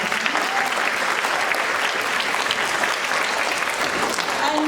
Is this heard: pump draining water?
no